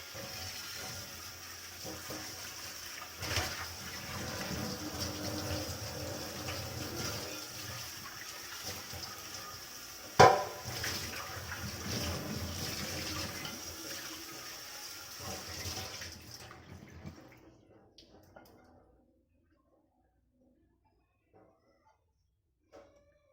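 Running water pours steadily from a tap as a greasy non-stick pan is washed underneath, with a sharp clatter midway, before the flow shuts off and near silence follows.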